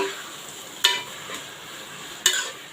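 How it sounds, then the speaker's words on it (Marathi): Chopped tomatoes and onion sauté together in a pan for a prawn biryani gravy. A soft continuous sizzle carries two sharp spoon clacks against the pan, with no voices. "आता कांद्याबरोबर टॉमॅटो पण चांगले परतून घ्यायचे आणि त्यांना पण चांगलं शिजवून घ्यायचे"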